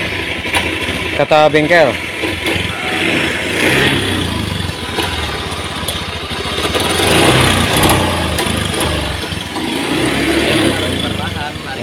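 A Honda Beat Pop motorcycle with a suspected injector sensor fault runs and revs as the throttle is opened, its engine rising and falling while someone talks over it.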